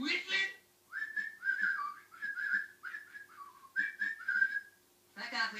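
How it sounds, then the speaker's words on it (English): A voice whistles a short tune of bright, sliding notes in several quick phrases, close and clear, with brief speech at the start and end. "ready to do some whistling?"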